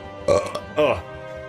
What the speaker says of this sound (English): Why does his voice always make me burp?